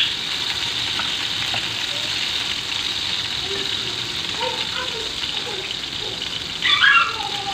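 Four medium tomatoes frying in hot oil on a griddle give a steady, close hiss and crackle that runs the full length, with a louder burst of spitting near the end.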